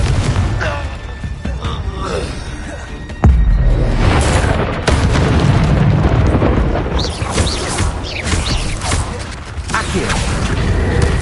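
Repeated fiery spell blasts in the video game Hogwarts Legacy, a heavy booming explosion landing around three seconds in, followed by sustained crackling, rumbling noise with further bursts layered over it.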